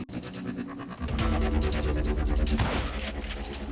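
Gunfire in the Western shooter Call of Juarez Gunslinger, a dense, continuous barrage of shots layered over a heavy low rumble and game music, loud and sustained throughout.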